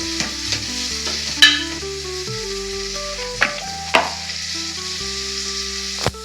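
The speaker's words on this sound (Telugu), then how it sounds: "ఇప్పుడు మనం ఈ ఉల్లిపాయలు అయ్యి మామూలుగా వేయించేసుకోవాలి. బాగా ఫ్రై అవ్వాలండి." Onions fry in a pan, a constant soft sizzle with a few sharp spoon scrapes and knocks as they are stirred, close and alone with no voices.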